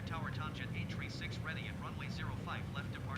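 A TUI Boeing 787-8 begins its takeoff at Manchester, bound for Tenerife, in Microsoft Flight Simulator, with a steady low engine rumble running throughout beneath a person talking over it.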